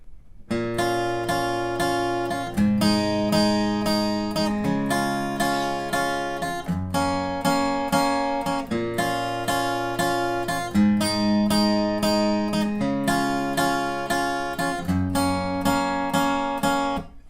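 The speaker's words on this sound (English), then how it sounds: "the riff for the intro and verse should sound something like this." A bright plucked acoustic guitar riff from a song repeats in steady cycles of strummed chords and picked notes, loud and clear with no voices.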